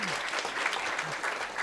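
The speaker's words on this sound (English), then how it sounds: "So I think a round of applause for that record." Applause fills the room at a Women in Tech Hackathon finals event at the University of Latvia, a dense, even clapping crowd heard close and continuous through the whole stretch.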